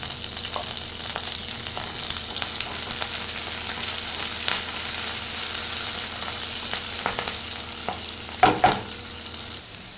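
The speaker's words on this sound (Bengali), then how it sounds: "পেঁয়াজ ভাজা হয়ে গেছিলো, ওর মধ্যে দিয়েছি কারি পাতা" Curry leaves sizzle as they drop into onions already frying in hot oil, a steady close crackle with stirring scrapes and a brief louder burst of spitting near the end.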